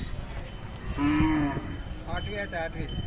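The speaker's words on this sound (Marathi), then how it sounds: "काळे मोरी जुन्यातली खिल्लार गाय आहे" A Khillar cow gives a single loud, drawn-out moo, close by, against a quiet outdoor background with no talking.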